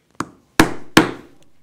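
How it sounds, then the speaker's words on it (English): Three sharp strikes of a mallet driving a hole punch through a leather belt strap, the second and third hardest, each a loud woody thunk with a short decay, close up with no talk. "I'm going to punch a hole"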